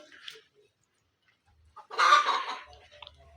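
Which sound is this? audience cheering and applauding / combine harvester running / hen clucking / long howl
hen clucking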